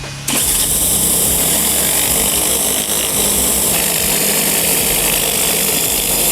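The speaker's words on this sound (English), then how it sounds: "When I'm running a surface cleaner, I like to make as long paths as I can." A surface cleaner runs on a driveway, a loud, steady engine drone and hissing water spray starting abruptly and continuing close and unbroken, with no talking.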